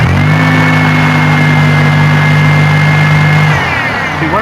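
Car engine revved steadily while A/C refrigerant is being charged, a loud sustained mid-pitched drone held for several seconds before dropping back toward idle.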